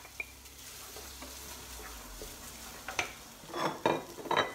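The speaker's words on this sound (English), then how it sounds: "I'm just going to drop that in with the onions and the garlic" Blanched risotto rice dropped into a pan of sizzling onions and garlic, a soft frying hiss with light scraping and stirring that grows busier and louder toward the end.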